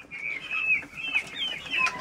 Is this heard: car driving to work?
no